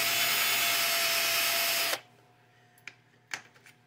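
A small power tool whirs steadily and loudly while cleaning the primer pockets of brass rifle cases, then cuts off abruptly. A couple of light clicks and taps of brass follow in the quiet.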